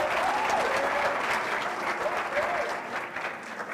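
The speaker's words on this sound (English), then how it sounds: "Je vous prie d'applaudir encore une fois pour cette merveilleuse intervention" A conference audience at a Blue Invest Africa event in Kenya applauds, giving a sustained, even patter of many hands that tapers slightly at the end, with a voice faintly audible over it.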